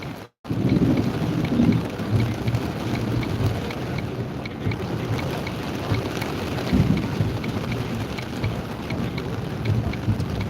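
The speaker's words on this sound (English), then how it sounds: "We are getting a lot more lightning and thunder though now." A thunderstorm during a tornado outbreak in Dixie Alley brings rain and low, rolling thunder. The rumble is continuous and loud, buffeted by wind noise, with one brief cut near the start and no talking.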